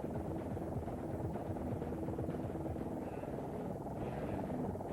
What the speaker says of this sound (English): The LAPD helicopter is in hot pursuit.